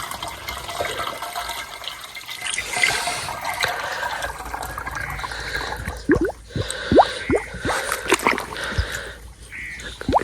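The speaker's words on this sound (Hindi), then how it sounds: "ये वाली ड्रमी भर कर।" Water from a tubewell pours into a drum as it fills, a gurgling, splashing flow with bubbly sloshes and rising liquid tones, fairly close and continuous.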